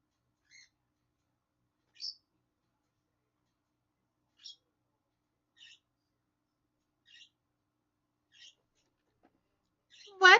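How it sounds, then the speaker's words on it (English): A pet bird named Peaches gives a series of short, sharp chirps spaced a second or so apart in a quiet room, ending in a louder, longer burst of calls. "She's over here chirping at me."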